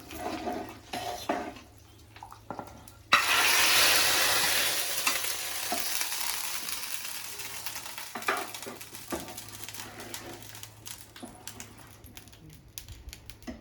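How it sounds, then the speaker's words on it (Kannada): A sudden loud sizzle as tempering spices hit hot oil in a pan, hissing strongly and then slowly fading, with a few clinks of utensils. "ಅದಕ್ಕೆ ಹಾಕಿದ್ದಾರೆ ಒಗ್ಗರಣೆ"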